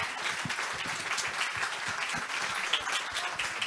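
Warm, continuous applause from a crowd at a short-story competition ceremony, honouring the event's organiser, many hands clapping evenly and fairly close.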